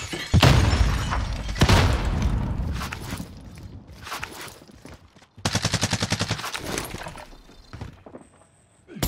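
Gunfire in the video game Call of Duty: loud sharp shots and rapid automatic bursts, punctuated by shattering and footsteps, with quieter gaps between volleys.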